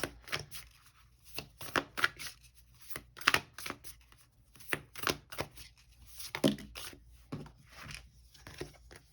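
A deck of oracle cards is shuffled and handled close by, producing quick riffling bursts and soft papery slaps in an irregular rhythm, fairly quiet, with no voices.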